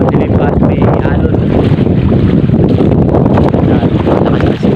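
Strong monsoon wind roaring steadily at sea aboard a fishing boat, a loud, dense, unbroken rush of wind and water noise buffeting the microphone throughout.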